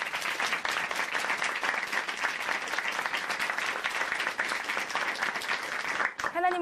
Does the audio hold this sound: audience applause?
yes